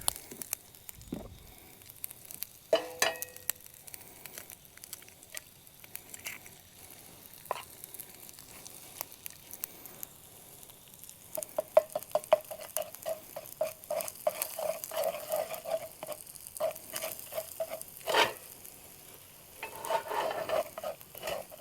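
Sriracha honey chicken fried rice cooking in a pan at a truck campsite by an outlaw cave, with soft intermittent sizzling, scraping stirs and occasional utensil clinks, fairly quiet and mostly without talk.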